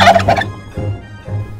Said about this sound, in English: I hear gobbles